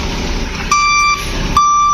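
A goods truck turning around at a factory yard gives two loud, close electronic reversing beeps, evenly spaced over a rumbling engine idle.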